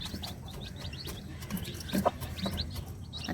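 Young chicks peep in quick, repeated high chirps while a hen clucks low now and then, all fairly faint and close, with no talking.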